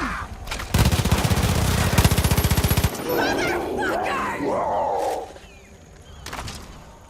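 Rapid machine gun fire from cult planes in Far Cry 5 rattles loudly for about two seconds, then gives way to roaring, shouting game sounds and a fainter burst near the end.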